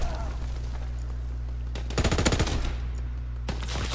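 Machine-gun fire in the video game Call of Duty WWII, a rapid rattling burst over a steady low drone of battle noise, with a couple of isolated shots before and after.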